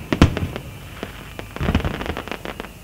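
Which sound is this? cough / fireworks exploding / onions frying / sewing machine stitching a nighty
fireworks exploding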